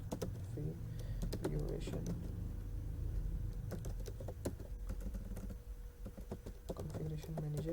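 Code typed on a computer keyboard, a steady run of close key clicks in quick bursts with a low background hum and speech over it.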